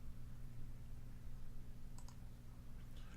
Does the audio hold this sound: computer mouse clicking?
yes